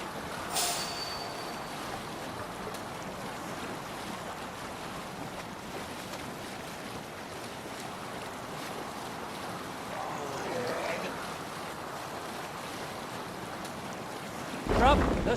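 A sailing ship moves through open sea in Assassin's Creed Valhalla, with steady wind rushing and waves washing against the hull, and a brief louder splash near the end.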